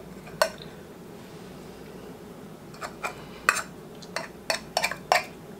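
Mini pecan praline muffins are pried out of a metal muffin pan, with a series of sharp metallic clicks and scrapes, irregular and close, over a quiet room hum.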